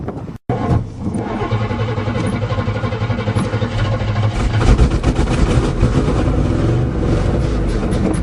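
A 1977 GMC 400 truck engine starting for the first time in seven years, a short cranking burst and brief pause, then the engine catches and runs with a loud, rough, low rumble that grows steadier.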